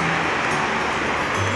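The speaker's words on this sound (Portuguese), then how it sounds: "O barulho do mar." Sea waves on the beach at Península de Maraú, Bahia, a steady broad roar of surf close by, continuous and fairly loud with no distinct breaks; no talking.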